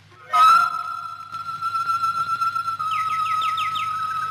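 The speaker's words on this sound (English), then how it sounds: "why don't you go into the aviary? Listen to the birds for a while." A bird in an aviary holds a long, clear whistled note, then breaks into a quick rippling trill, fairly close in a quiet space.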